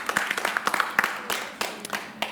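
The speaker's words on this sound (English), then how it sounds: "May I have an applause for Jane?" An audience applauding an award winner at an entrepreneurship pitch finals, scattered claps from a modest crowd that come in uneven bursts and thin out.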